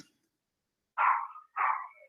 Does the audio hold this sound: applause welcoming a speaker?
no